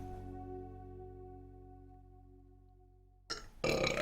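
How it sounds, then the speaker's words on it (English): A single belch comes as a long, tonal drone that fades out slowly, followed by brief silence and then a sudden burst of louder noise at the end. "My first belch."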